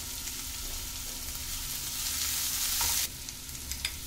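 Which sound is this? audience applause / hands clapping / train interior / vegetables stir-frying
vegetables stir-frying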